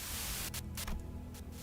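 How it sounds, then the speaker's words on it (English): Radio static buzz of white noise in the video game Limbus Company, a dense hiss that cuts in and out in short bursts and gaps, steady and moderately loud with no speech. "sudden buzz of white noise breaks through the truck's silence."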